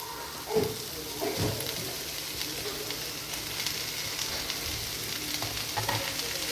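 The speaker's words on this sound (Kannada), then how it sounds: "ಈಗ ಇವು ಕಟ್ ಮಾಡಿ ಇಟ್ಕೊಂಡಿರೋ ಉಳ್ಳಾಗಡ್ಡಿ ಆಮೇಲೆ ಟೊಮೆಟೊ ಹಾಕತ್ತೀನಿ" Chopped onion and tomato frying in a pan, a steady low sizzle with a few soft stirring knocks near the start, close and fairly quiet throughout.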